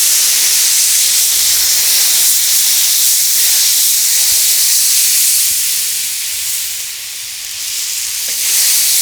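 Coconut cream hisses and sizzles loudly and steadily in a hot oiled wok, a dense close frying roar that dips briefly before swelling again, with no talk.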